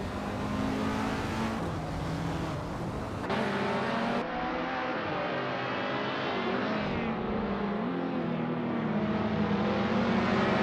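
Racing-game engines, including a 1963 TVR Griffith 200, drone steadily with shifting revs and pitch changes throughout, a continuous moderately loud roar with no voices.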